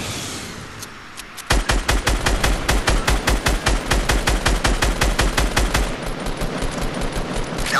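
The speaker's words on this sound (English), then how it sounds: "Someone else is shooting from behind you." Rapid automatic weapon fire in Fortnite starts after a quiet moment, a long evenly spaced burst of loud sharp shots lasting several seconds before it stops abruptly.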